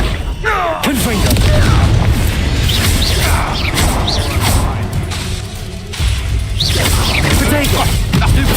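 Confringo explosive spell cast in Hogwarts Legacy, heard as loud booming blasts and whooshing crashes layered over dense, continuous game action with no pauses.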